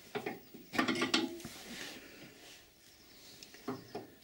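An open-ended or ring spanner works a nut loose on the rear suspension of a Triumph Vitesse, making faint, close clicking and ratcheting metal sounds in short bursts.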